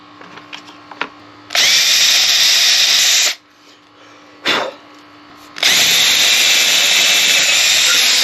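A power drill fitted with a new Harbor Freight drill bit whines loudly in two sustained bursts, each a couple of seconds long, separated by a quiet pause with a short rev in between; small clicks and handling noises come first.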